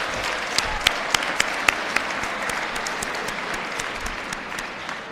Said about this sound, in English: Let's clap it up for our sophomores.